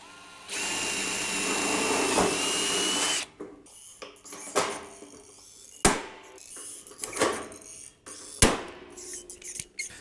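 A power drill whirs steadily for about three seconds through scrap iron, then stops, followed by several sharp knocks and clatters of handling tools and parts.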